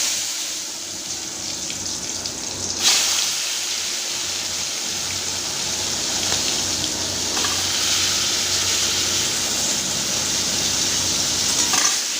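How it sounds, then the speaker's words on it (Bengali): Steady, loud sizzling of salted, turmeric-coated pointed gourd frying in hot oil in a wok, with a sharp crackle burst early on and continuous spitting throughout. "পটলগুলো এখানে ভেজে নেবো"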